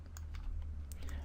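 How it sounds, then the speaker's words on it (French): Computer keyboard keys pressed during editing work in HitFilm Express, a few soft clicks over a steady low hum, fairly faint and close. "j'appuie sur le point de mon clavier"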